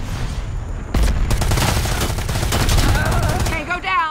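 Gunfire in the video game Predator: Hunting Grounds, a sudden dense burst of rapid automatic shots lasting about three seconds after a quieter start, loud and close, trailing into a brief tonal game sound.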